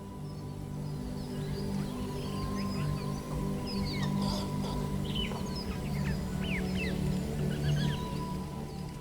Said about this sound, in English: Hear the sounds of the birds singing in the distance.